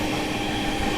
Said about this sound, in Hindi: दोस्तों ट्रेन अपनी स्किप करने जा रही है घामर स्टेशन स्किप कर रहे हैं